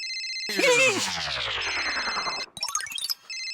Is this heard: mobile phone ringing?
yes